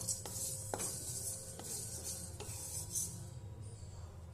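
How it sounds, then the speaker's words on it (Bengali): Whole spices being stirred as they fry in ghee in a pan for chicken polao: soft scraping and light clinks of a utensil against the pan, a handful of distinct taps over a quiet, faint sizzle, close and without talk. "নেড়ে নিচ্ছি, খুব বেশি ভাজবো না।"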